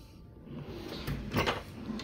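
A drawer slides open in a luxury hotel room at the Four Seasons in Sydney, a soft close wooden scrape and knock rising to a brief clatter midway, quiet and alone.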